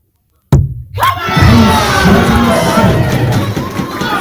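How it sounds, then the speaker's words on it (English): A darts finals crowd erupts after a brief silence, a sudden loud roar of cheering, shouting and thumping that swells and stays dense and loud throughout. "And the crowd goes wild."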